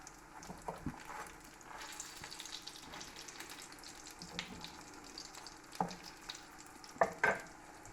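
Pheasant or duck frying in hot fat for crispy pancakes, a faint continuous sizzle and crackle with scattered spitting pops and light clatter of utensils.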